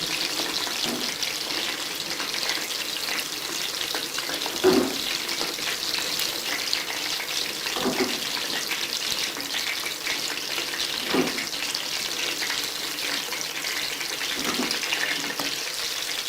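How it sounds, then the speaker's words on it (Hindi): Chicken pakoras frying in hot oil give a steady bubbling hiss throughout, with a few soft knocks and clinks of a utensil at intervals; no one speaks. "जो बाकी के रह गए हैं उनको फ्राई करती हूँ।"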